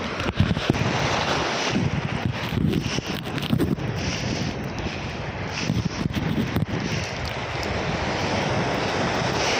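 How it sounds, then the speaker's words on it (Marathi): Strong wind buffets the microphone over the continuous roar of rough surf breaking on Juhu beach, loud and unbroken throughout. "लाटा पण चालल्या फुल स्ट्रॉंग करंट आहे"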